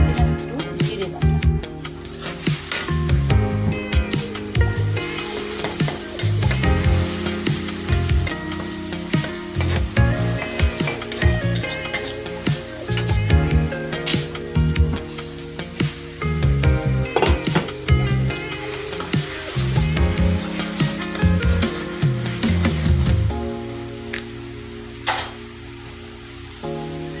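Ginger-garlic paste and cumin paste with a splash of water sizzle over softened onions in a pan, with loud continuous frying, repeated stirring scrapes and spoon clinks up close.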